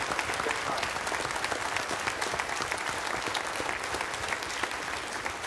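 A church congregation applauding, a dense, even rush of many hands clapping steadily with no break, fairly close and full.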